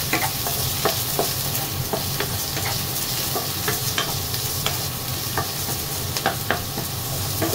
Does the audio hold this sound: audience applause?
no